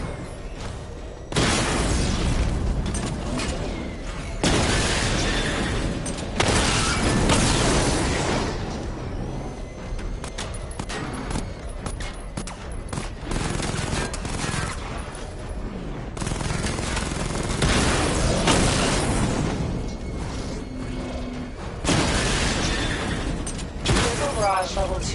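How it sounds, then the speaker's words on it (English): Repeated loud missile barrage blasts in Batman: Arkham Knight sound like bursts of booming explosions and rapid gunfire. They recur every few seconds over a steady battle din, and voices speak at times. "Charge the missile barrage to level 2 to destroy up to 4 targets at once."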